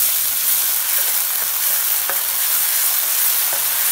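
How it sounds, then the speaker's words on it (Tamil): Garlic and manathakkali (black nightshade) berries sauté in hot oil, giving a loud, continuous close-up sizzle with a few faint stirring clinks and no talking. "அதை இப்போ கொஞ்சம் எண்ணெயில் வதக்கிடலாம்."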